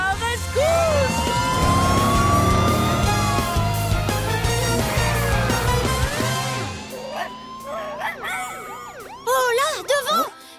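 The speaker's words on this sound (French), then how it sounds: "Voiture de police Blaze à la rescousse." A cartoon police car siren wails loudly and continuously for several seconds in a Blaze and the Monster Machines episode, then fades as animated voices and bouncy sound effects take over.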